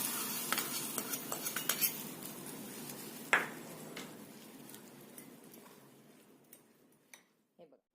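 A hot tempering of cumin, green chilli and asafoetida poured over a grated carrot salad, giving a brief sharp sizzle amid close spoon scraping and stirring that fades to quiet.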